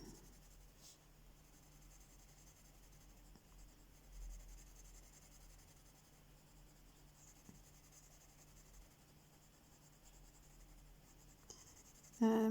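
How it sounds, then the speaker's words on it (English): Castle art colored pencil shading on paper, a steady soft scratchy graphite-like hiss of strokes close up, continuing quietly with no talking. "we want to be a little bit more careful about laying our pencil"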